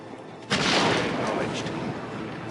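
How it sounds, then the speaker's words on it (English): An explosion in the video game Dawn of War 2 blowing up a group of orcs: a sudden loud blast with a rumbling tail that slowly fades. "I'm gonna toss that over the wall. And we're gonna blow up all the orcs at once."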